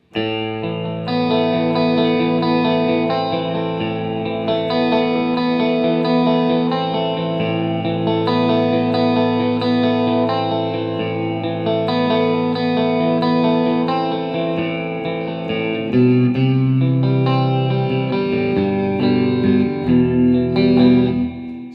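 A clean-toned electric guitar on a John D'Amato Signature Escape plays a sustained, arpeggiated ballad passage with chorus shimmer and light reverb, loud and close with no talking.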